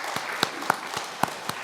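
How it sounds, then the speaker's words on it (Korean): Church congregation clapping during a Sunday worship service, a sparse rhythmic beat of loud claps about four per second over a soft room wash, like a group clapping in time. "우리 다시 한번 하나님 앞에 감사와 영광의 박수 돌려드리십시다"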